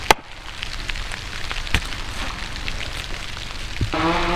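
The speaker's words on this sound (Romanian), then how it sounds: "că văd că plouă" Light rain falls steadily outdoors in a rural yard, a soft continuous patter of drops with a few sharper taps and a brief clatter near the end.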